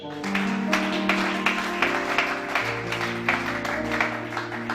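A worship congregation at a church service in Gabon claps in rhythm, steady repeated handclaps sounding over sustained organ-like music for the whole stretch.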